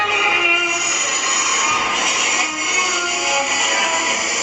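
A subway train rolls along with a steady, loud broadband roar and sustained metallic screeching tones, continuous for the whole stretch with no voices over it.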